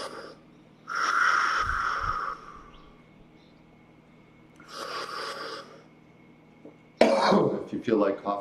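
Coughing and throat clearing in bursts during a deep-breathing exercise, two main episodes with a pause between, close and fairly loud, followed by a person speaking.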